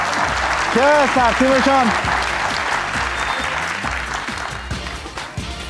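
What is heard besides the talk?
studio audience applauding the team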